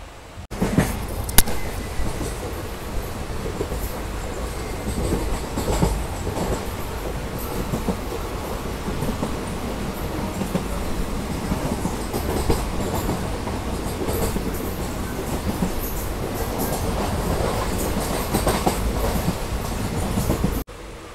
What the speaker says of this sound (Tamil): நம்மளுடைய ட்ரெயின் இப்போ பார்த்தீங்கன்னா உள்ளூர் ஸ்டேஷனில் இருந்து ஒரு 20 நிமிஷத்துக்கு அப்புறம் டிபார்ட் ஆகி போய்கிட்டு இருக்குங்க